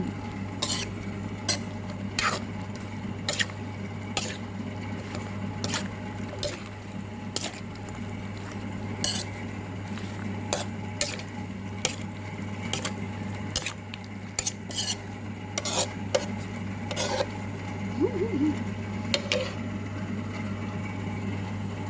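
Steady scraping and stirring of a cucumber salad in a bowl with frequent light clicking taps of a utensil, close up, over a constant low hum.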